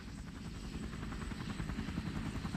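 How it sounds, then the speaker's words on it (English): A Loach helicopter from the Vietnam War is in flight, giving a steady, moderately distant rotor chop with a pulsing low rumble and no voices over it. "the Loach became the most widely used helicopter of the Vietnam War"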